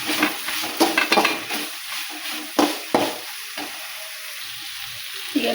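Vegetable filling for a wheat-bread sandwich is stirred in a hot pan, a steady sizzle broken by scraping spatula strokes and occasional louder knocks against the pan, close and alone.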